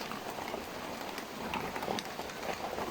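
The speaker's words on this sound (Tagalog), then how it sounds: "Biglang lumuhos yung malakas na ulan" Steady rain falling on a surface, a dense continuous patter with scattered drips, fairly quiet and distant.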